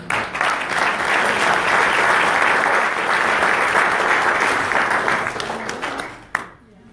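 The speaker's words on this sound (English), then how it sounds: "Let's give him a round of applause" A crowd at an outdoor rally applauds a police K9 named Jax and his handler officer, with dense sustained clapping for about six seconds before it quickly dies away.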